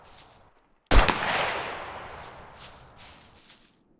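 A single gunshot from a firearm set to single-shot mode in the survival game SCUM, one sharp loud crack followed by a long fading echo and tail, with no talk.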